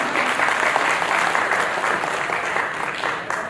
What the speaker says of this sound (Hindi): उन सभी के लिए एक बार जोरदार तालियां।